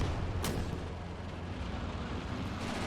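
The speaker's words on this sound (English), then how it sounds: "Get those machine guns firing off." Machine guns firing in the WWII game Gates of Hell, a dense continuous rumble of distant fire and artillery with one sharper crack near the start, no voices.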